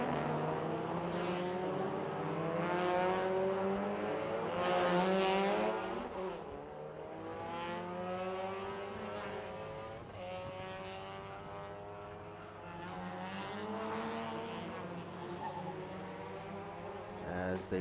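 Race cars, including Adipong's car, roar past on the final lap of Thailand Super Eco race 4 on the Bangsaen street circuit, with loud engine notes rising and falling as they pass under a steady commentator's voice.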